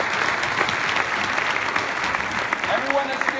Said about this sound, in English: Let's give these guys a round of applause here.